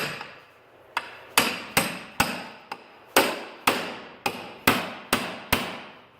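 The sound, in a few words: hammering a pickle fork to separate a snowmobile ball joint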